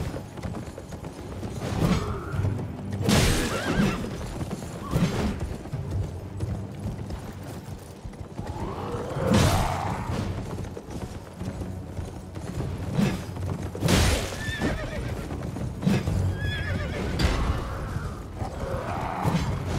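Horse hooves clattering and a horse cry in Elden Ring during a nighttime fight where the mount is killed, heard as rhythmic clopping and mechanical clanks with scattered bursts, no talk.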